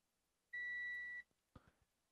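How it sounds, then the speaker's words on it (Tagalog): A multimeter's continuity tester gives a single steady electronic buzzer beep for under a second while probing a shorted 12-volt power rail on a ZOTAC GTX 1060 graphics card, followed by a few soft clicks and taps. "So, buzzer sound."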